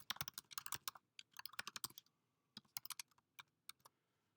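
Quick bursts of keystrokes on a computer keyboard while filling in a résumé, close and clear, with a brief pause before another run of taps.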